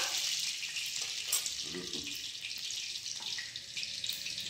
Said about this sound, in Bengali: গোটা লঙ্কা দেয়া হলো ফোড়নে,